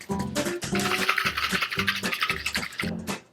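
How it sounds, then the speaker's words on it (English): Salad dressing for an Asian chicken salad shaken hard inside a lidded mixing container, a rapid rhythmic run of sloshing, rattling bursts close up, about six or seven strokes, with no voices. "Put the lid on your salad mixing container thingamajiggy and start shaking"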